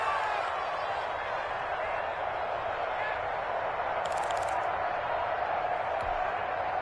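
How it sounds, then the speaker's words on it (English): An American football stadium crowd produces a dense, continuous roar that holds steady and loud throughout, like a wall of cheering with no breaks. "the crowd getting into it"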